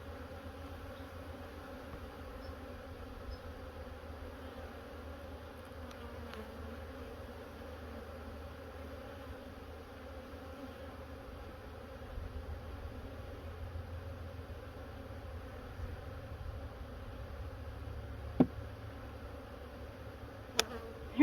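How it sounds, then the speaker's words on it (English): Honeybees hum in a steady, busy drone inside a hive, many insects close together, with a couple of faint clicks near the end. "There are so many bees in here."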